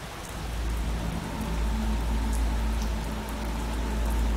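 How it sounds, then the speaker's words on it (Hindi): Heavy rain falls steadily at an Indian Air Force helicopter base, a dense continuous hiss with a deep low rumble, loud and unbroken throughout, with no voices. "यहां कई दिनों से बारिश हो रही है"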